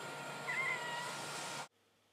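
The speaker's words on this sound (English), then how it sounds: "find another cat," A cat gives a single drawn-out meow, fairly faint, that stops abruptly, leaving near silence.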